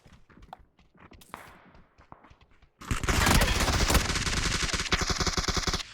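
Video game gunfire erupts after a few seconds of soft clicks and steps, turning into loud, dense automatic bursts that rattle on continuously to the end.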